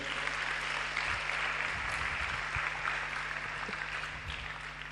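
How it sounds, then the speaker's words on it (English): Audience applause at a seminar talk, a steady wash of many hands clapping heard at moderate distance with a low background hum and some scattered louder claps. "let us give them a round of applause"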